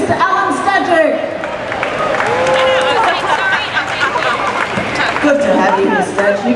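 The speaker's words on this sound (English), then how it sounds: "Would you please also give a big round of applause for the Westfield Matilda'S coach, Mr. Alan Stajic." Crowd applause and cheering for the coach of the Westfield Matildas, the Australian women's soccer team, with clapping mixed with lively chatter and voices throughout at close range.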